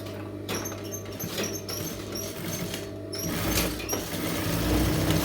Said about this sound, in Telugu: షోల్డరు హెమ్మింగ్ పట్టీని చిన్నగా లోపలికి మడిచి ఇలా స్టిచ్ చేసుకోవాలి